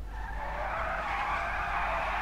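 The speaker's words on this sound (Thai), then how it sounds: "คือเสียงมันไม่เหมือนเสียงเครื่องยนต์ทั่วไปอะครับเป็นเสียงเหมือนรถไฟฟ้าเหมือนเสียงมันไฟดูดอะ" A steady, high whining electric motor hum with tire squeal, sustained and loud throughout, from a Coil Voltic electric sports car in GTA V.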